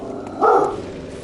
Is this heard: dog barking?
yes